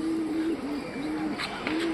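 Domestic pigeons cooing in a rooftop loft, several soft low rhythmic coos repeating close by over steady background noise.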